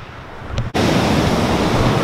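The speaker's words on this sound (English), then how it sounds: "There's a nice Atlantic Ocean, a nice brownish, greenish wave." Atlantic Ocean surf breaking on a beach, a loud steady wash of waves that swells sharply after a brief dip, with wind buffeting the microphone.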